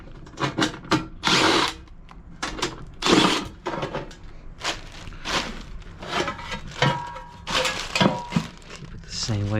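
A cordless power tool whirs in short repeated bursts, loosening screws to open the housing of a fan coil unit in an HVAC repair, with clicks and handling noises between bursts and someone talking intermittently.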